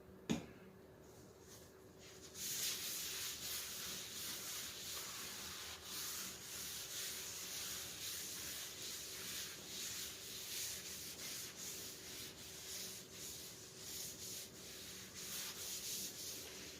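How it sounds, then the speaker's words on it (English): Sandpaper works back and forth over a butcherblock countertop, a faint, steady rubbing hiss that starts after a brief quiet pause and carries on evenly with no talking. "I'm going to do a little more here, just to be sure."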